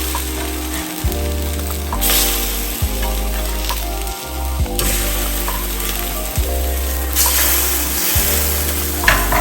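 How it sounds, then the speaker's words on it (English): Burger patties spread with yellow mustard sizzle in a hot pan over medium-high heat, a continuous frying crackle heard under background music. "we're gonna take our patties, and they're gonna go mustard side down"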